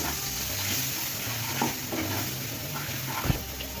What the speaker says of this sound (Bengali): এবার দিয়ে দেবো হলুদ, লঙ্কার গুঁড়ো, জিরের গুঁড়ো, ধনের গুঁড়ো, ভালো করে কষিয়ে নেব